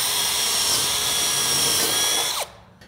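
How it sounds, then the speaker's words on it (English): A power rivet tool pops a rivet through gable trim on a 7.2 Western Rib metal panel, giving a loud, close, continuous whirring drone that cuts off abruptly. "Now we're going to pop our rivet here."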